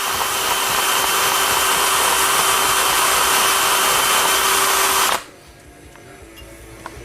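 A power tool whines steadily and loudly while polishing the valve body bores of a Honda transmission during a rebuild, running at a constant pitch for about five seconds and then cutting off abruptly into near quiet.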